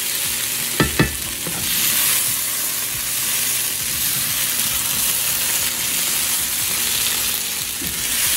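Breakfast potatoes fry in a skillet with a loud, dense sizzle that holds steady throughout, opening with a couple of sharp knocks as they are tossed, with only faint scraping afterward.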